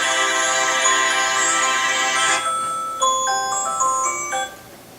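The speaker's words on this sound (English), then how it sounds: "an alarm went off" An electronic alarm rings with a sustained tonal chime that shifts into a stepping pattern of beeping notes, then cuts off near the end.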